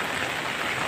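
Heavy typhoon rain pours steadily in a dense, continuous hiss at moderate loudness for a brief moment, with no voices.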